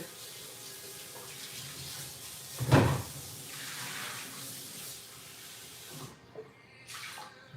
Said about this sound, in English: I'm going to need to rinse this out because I'm going to use it again